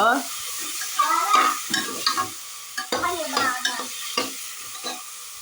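Vegetables sizzle in a hot pan while a spoon stirs them in repeated scraping strokes, close and fairly loud, the bursts of sizzle rising and falling with each stir.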